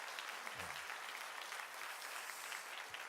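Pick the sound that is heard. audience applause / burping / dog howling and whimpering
audience applause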